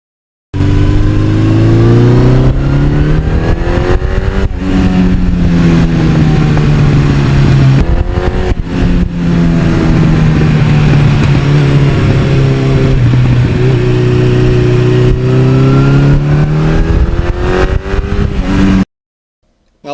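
A 1982 Suzuki GS1100E motorcycle engine revs loudly and close, its pitch climbing and falling through several sweeps over about eighteen seconds before cutting off abruptly.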